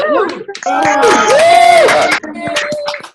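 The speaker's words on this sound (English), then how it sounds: "We can make as much noise and applause and celebration of all their good work" Online group cheering and whooping together after being unmuted, a jumble of overlapping voices with shouts and some scattered clapping, loud and close.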